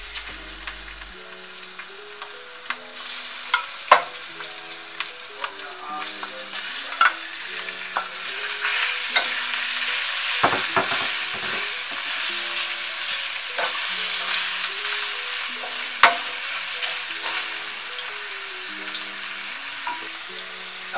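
Shrimp and garlic frying in hot vegetable oil in a pot for coconut curry shrimp, a bright, steady sizzle with occasional sharp clinks and scrapes of stirring, no voices.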